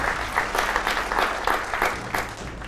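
Studio audience on a television quiz show clapping, a loud crowd of many hands with slightly surging waves, continuous for the whole stretch.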